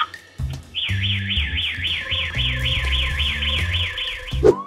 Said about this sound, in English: the world's most sci-fi burglar alarm